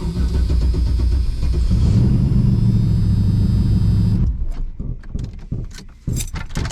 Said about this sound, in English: Move wifey's car out of the way.